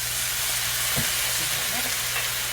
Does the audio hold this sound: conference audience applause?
no